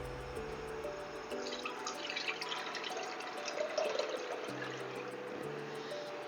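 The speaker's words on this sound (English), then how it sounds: "We are going to pour in our beef stock." Beef stock for a quick Vietnamese pho pours steadily into a pot, a continuous liquid splash and trickle with no voices heard.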